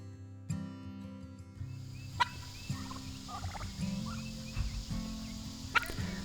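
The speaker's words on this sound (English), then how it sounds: "This morning, the turkeys have graduated to free-range status" Free-range turkeys on an organic garden homestead gobble repeatedly, several birds calling in overlapping bursts at moderate distance over low background noise, no speech.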